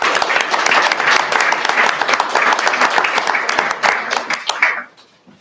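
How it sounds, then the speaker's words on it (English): A conference audience claps for Senator Mike Brown at a cyber conflict event, a loud, full round of applause that holds steady and then quickly dies away near the end. "So I would just give him a round of applause for Senator Mike Brown."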